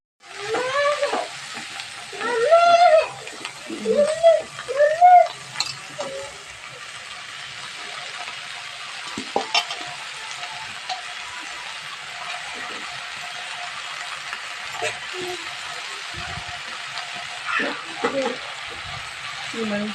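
Pindi kura curry, a leafy green dish, cooking in a pan, giving a steady low sizzle and bubbling throughout, with a few louder stirring scrapes and a voice talking early on.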